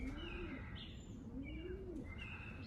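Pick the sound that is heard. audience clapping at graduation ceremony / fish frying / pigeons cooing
pigeons cooing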